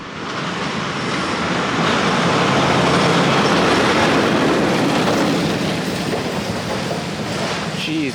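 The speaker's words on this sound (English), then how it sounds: "Man, those logging trucks are absolutely gigantic." A huge logging truck rumbles past on a dusty forest road on Haida Gwaii, a loud broadband roar swelling and holding close by for several seconds without any talk.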